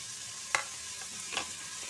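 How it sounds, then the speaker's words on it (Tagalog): Vegetables for pinakbet stir-fried in a pan give a faint, steady sizzle with two soft scraping stirs of a utensil, close and quiet with no talk. "Stir fry, here we go"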